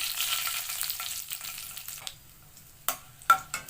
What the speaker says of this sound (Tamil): லேசாக வதக்கி விட்டுக்குவோம்